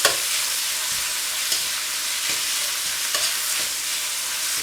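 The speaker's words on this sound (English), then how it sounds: "The oil become very hot. We put the meat now." Beef pieces stir-frying in very hot oil in a wok give a loud, continuous hissing sizzle, close up, with a few sharp spatters and clatters breaking through and no voices.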